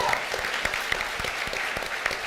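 Audience applause and cheering at a live Supreme Court year-in-review event, a brief steady wash of clapping with scattered sharper claps, no talk over it.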